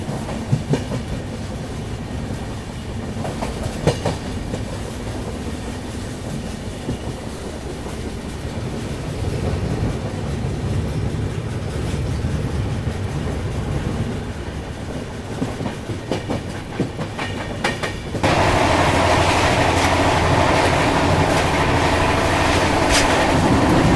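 The Karnavati Express passenger train running at top speed between Ahmedabad and Mumbai, a loud continuous rumble with rhythmic wheel clatter that swells into a louder, brighter roar near the end.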